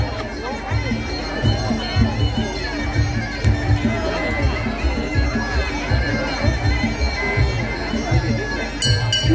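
Brass ring bell sounds to end a round at a Thai retro-style muay boxing bout, ringing beneath steady crowd noise with an announcer's voice running throughout.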